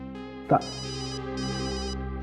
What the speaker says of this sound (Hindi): घंटी तो लैब में बज रही है